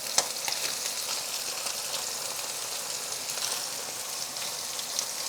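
Paneer fries in a pan over high heat, giving a steady, bright sizzle that holds at an even level for several seconds, with small crackles and no talk.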